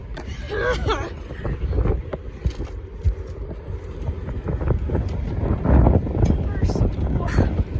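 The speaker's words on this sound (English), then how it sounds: "Current winds are 45 miles an hour. Gusts." Strong wind of about 45 mph buffets the microphone in rumbling gusts throughout, with scattered thumps and movement noise, outdoors in Wyoming.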